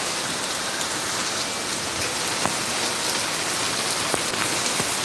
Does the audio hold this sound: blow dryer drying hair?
no